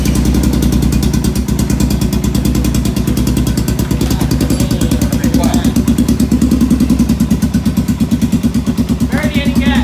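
A Honda 400EX quad engine with a freshly rebuilt top end runs steadily at a low, throbbing idle close by, with people talking over it.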